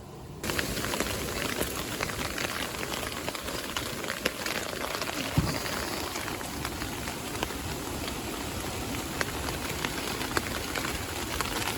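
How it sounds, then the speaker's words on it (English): Heavy rain pours steadily onto a woodland wild camp, a dense, continuous hiss of drops on leaves and surfaces that stays loud and even throughout, with no voices. "that's the rain starting to chuck it down again"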